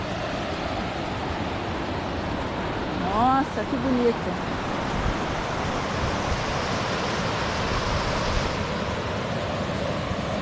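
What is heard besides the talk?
small waterfall flowing into a pool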